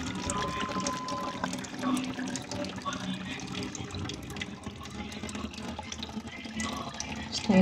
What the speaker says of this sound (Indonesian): Ini aku akan buang air